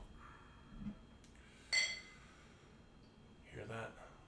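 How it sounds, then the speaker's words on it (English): Beer glasses clink together in a brief bright ring near the middle, with a few softer knocks around it and someone talking nearby. "The clink of the glass, y'all."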